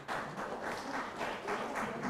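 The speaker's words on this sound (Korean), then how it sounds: "김상희 의원님을 큰 박수로 환영해 주시기 바랍니다." Audience at a Korean legislative public hearing applauds to welcome lawmaker Kim Sang-hee; steady, moderately quiet clapping with a loose rhythmic pulse, heard from a distance in a hall.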